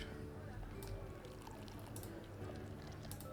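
Beer pouring in the Travellers Rest tavern-management video game: a steady, close liquid stream runs throughout, set over a busy game background.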